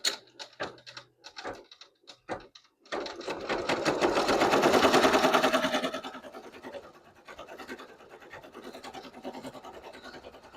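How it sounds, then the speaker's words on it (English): An embroidery sewing machine stitches in a rapid, close, buzzing run after a few scattered clicks, staying loud for a few seconds, then dropping into a quieter steady chatter. "while that one is continuing to stitch"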